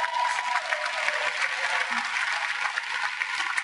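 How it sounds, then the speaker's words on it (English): Steady, dense applause from a large audience inside Phillips Arena, home of the Atlanta Hawks, sustained at an even level throughout. "Y'all can clap for that."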